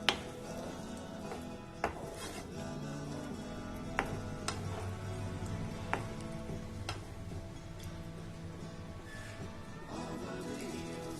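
Paneer stirred into a dhaba-style palak paneer gravy, with a spoon giving faint, sparse clicks and taps against the pan over a low kitchen hum.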